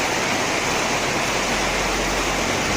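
Heavy rain pours steadily onto a canopy during a storm, a dense, loud, unbroken hiss with no voices.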